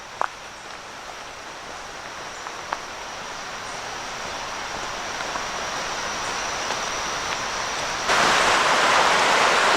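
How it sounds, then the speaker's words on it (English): A small waterfall on a hiking trail along the Mason-Dixon Trail gives a continuous broadband rush of falling water that swells louder near the end, with a few faint clicks early on and no voices. "Like a little mini waterfall."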